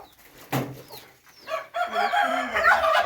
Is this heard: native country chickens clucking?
yes